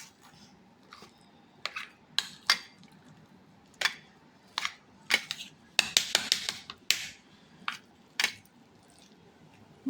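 Mashed potato, tomato, onion, coriander and mint being mixed in a bowl for an omapodi chaat: close, irregular clinks and scrapes of a utensil against the bowl, in short bursts with soft squishy handling between.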